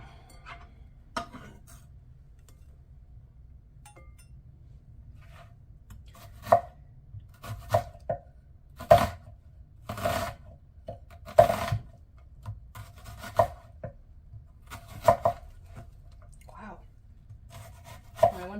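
A knife chops white onion on a board in irregular bursts of crisp thuds, sparse at first and then more frequent, fairly close and alone.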